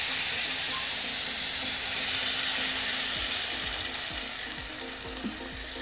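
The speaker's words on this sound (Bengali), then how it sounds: "এরকম পর্যায়ে এবার আমি দিয়ে দিচ্ছি জল।" Water poured into fried spice paste for a potato and tomato curry, a steady loud sizzle and hiss with scraping stirring beneath it, no talk.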